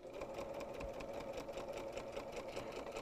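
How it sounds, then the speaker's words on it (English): A home sewing machine stitching fabric for paper piecing runs in a steady, continuous whir at close range, with no talking over it. "And we'll come back to our machine and sew."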